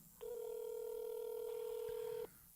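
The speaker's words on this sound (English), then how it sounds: "Nobody's answering the phone." A single steady electronic telephone ring tone sounds on an unanswered call, lasting about two seconds against a quiet line before cutting off.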